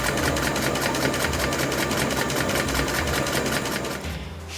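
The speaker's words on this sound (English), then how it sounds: "So I'm going to stitch right along that line" A sewing machine runs a fast, even stitch along a leather rucksack seam, loud and close, its rapid needle rhythm holding steady before slowing to a stop at the end.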